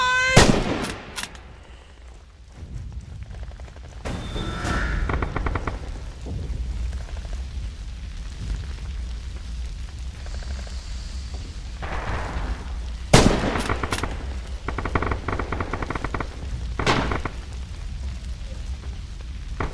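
Enemy gunfire and machine-gun bursts in the war game Red Orchestra 2, with sharp loud shots at the start and around the middle and end, over a steady rumble of distant battle noise.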